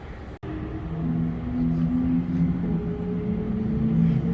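A group of Porsche cars drives past at the Barber Museum grounds, with overlapping engine drones that swell and shift pitch as they go by at moderate distance.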